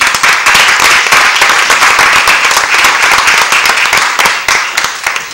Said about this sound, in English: I'd like to give them